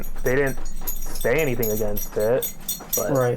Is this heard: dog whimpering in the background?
yes